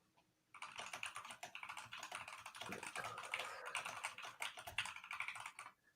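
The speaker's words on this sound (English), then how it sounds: "She's typing so fast I can't even see the letters." Rapid typing on a computer keyboard, with dense, continuous clicking of keys starting after a brief pause and running steadily until near the end, close and clear with no talking.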